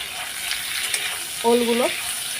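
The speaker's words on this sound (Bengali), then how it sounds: "ওলগুলোকে একটু ভেজে ভেজে নেব।" Boiled elephant foot yam fries in oil seasoned with cumin and bay leaf, giving a steady close sizzle with light stirring. A brief tonal squeak cuts in partway through.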